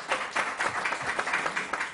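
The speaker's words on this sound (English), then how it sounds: "You can clap on that." A small audience at an outdoor press briefing at Sahlen Field in Buffalo gives a short burst of scattered, moderately faint clapping that lasts under two seconds.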